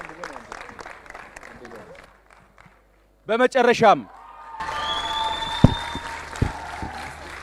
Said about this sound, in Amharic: በድጋሚ ሁላችሁ ሞቅ ያለ ጭብጨባ ባካችሁ